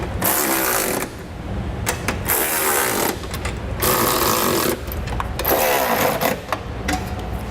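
Hex nuts on a Curt trailer hitch receiver on a 2009 Mercury Mariner are tightened with a ratchet, making loud, close, buzzing mechanical bursts of about a second each, separated by short pauses.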